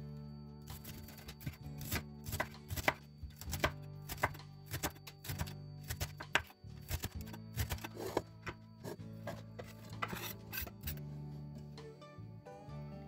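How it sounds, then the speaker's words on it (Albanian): A kitchen knife chops fresh leeks on a cutting board for a leek and potato pie, giving a steady run of close, crisp taps and thunks with short pauses in between, and no voices. "Ktu kam dy presh, do t'i grimimët"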